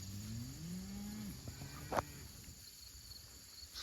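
A cow gives one long, low moo in a hay field, fairly close, while insects chirp faintly in the background, followed by a brief thump and quiet outdoor air.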